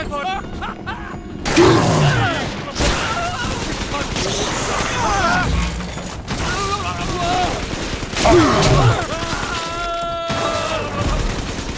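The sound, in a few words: gunfire in the video game BioShock 2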